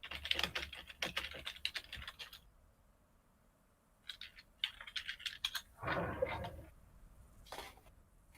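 Computer keyboard keys, including home and delete, are tapped as flight simulator controls: quick clusters of close, crisp clicks in bursts separated by short quiet pauses.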